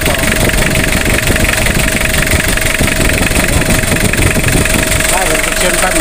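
A diesel engine idles steadily and loudly while its injection pump is being adjusted, a constant rumbling drone with someone talking over it.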